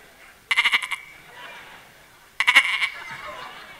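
A man imitates the bleating of a young goat, with two loud, wavering bleats about two seconds apart, each a quick run of pulses, heard alone with no other talk.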